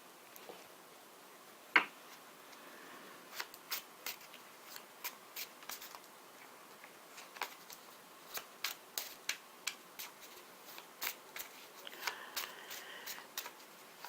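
Tarot cards are shuffled and handled in a quiet room. Crisp, sparse riffles and taps come in bursts, close and fairly soft, with no talking.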